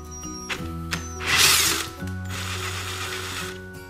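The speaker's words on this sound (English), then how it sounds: "You wanna make sure that that drill bit is perfectly perpendicular to the hole. So we're just gonna do slow RPM. Start drilling it out." A drill bit turns at slow speed into the stripped drain plug of a 1973 Evinrude 6HP outboard lower unit, giving a close grinding, ratcheting mechanical whir with a few clicks and a brief harsh burst as it bites through the thin metal.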